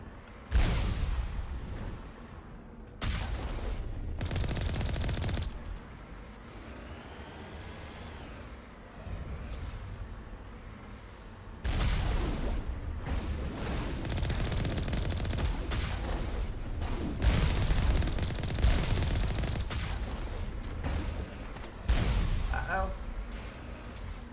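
Rockets and heavy weapons fire in a Mass Effect Legendary Edition battle: repeated loud bursts and blasts in clusters, with rumbling gaps between them and a player's voice talking over the action.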